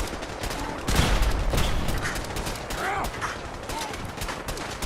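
Gunfire rattles through a battle in the Fallout 4 video game, with rapid bursts and single shots cracking close and loud over several seconds, some overlapping, while faint whooshing game sounds weave between them.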